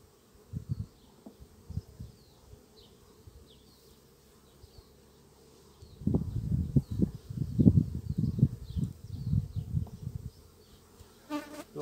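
Honey bees buzzing around an open hive, a low drone with scattered close passes that swells into a denser, louder cluster of buzzing in the second half.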